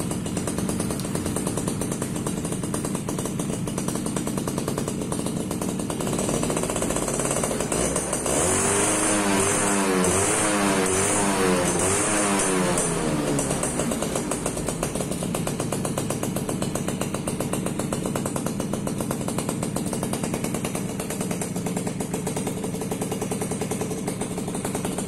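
A 1997 Suzuki RC100 Bravo two-stroke motorcycle engine runs steadily close by, a buzzy, raspy idle that holds for the whole stretch with a brief rise in the middle and no talking.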